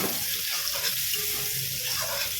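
Pumpkin pieces fry in a pan, a close, steady bright sizzle that runs evenly throughout with a few soft low knocks underneath.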